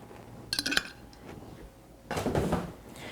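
A spoon stirs Mexican bean dip in a bowl, giving two short bursts of clinking and scraping against the dish, close and fairly quiet, separated by a soft pause.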